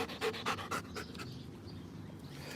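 A Prairie Shepherd dog pants rapidly and close by after backyard training in a heat wave, quick rhythmic breaths that soften over a few seconds.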